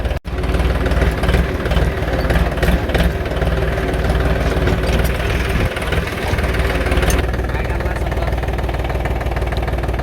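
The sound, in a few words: tractor engine running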